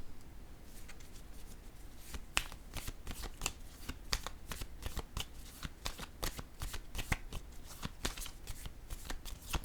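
A fresh tarot deck being shuffled by hand for a Scorpio reading: steady, rapid riffles and card slaps repeating for several seconds, close and clear, with no voices.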